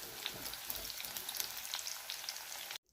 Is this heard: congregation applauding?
no